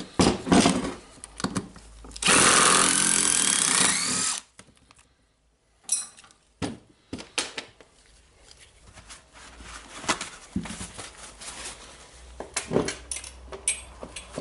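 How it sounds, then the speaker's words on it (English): An impact driver works screws out of a Hitachi Koki DH28PCY hammer drill in one loud sustained burst of about two seconds, followed by quieter clicks, handling clatter and short rattles of the tool being opened. "I will try to use impact driver"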